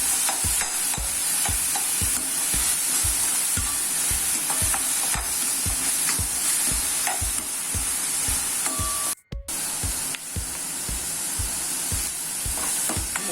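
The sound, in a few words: sautéing ingredients in oil for vatha kuzhambu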